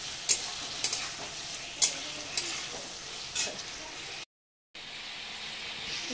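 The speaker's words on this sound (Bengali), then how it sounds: "এই যে আলুগুলো কষিয়ে নিচ্ছি।" Potatoes sautéing with spices in a pan, a steady soft frying hiss broken by a few sharp scraping stirs and one brief dropout of silence.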